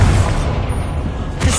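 A Bombarda explosion spell from Hogwarts Legacy lands as a heavy, rumbling boom, rolling on as a low roar before a second thump hits near the end.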